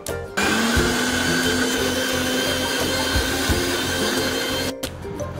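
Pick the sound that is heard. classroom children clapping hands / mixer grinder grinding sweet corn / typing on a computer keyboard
mixer grinder grinding sweet corn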